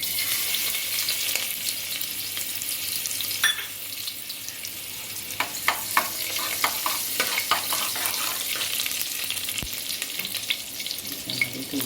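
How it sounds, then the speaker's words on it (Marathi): Onion and masala frying in hot oil for a Kolhapuri crab curry, with loud continuous sizzling and bursts of stirring scrapes, close by, with no talk. "त्याचे तेल तापत आलेलं आहे, थोडीशी तापले तेल, त्याच्यामध्ये घालणार आहोत आता मसाला"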